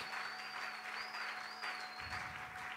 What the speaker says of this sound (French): Acclame très fort, amen.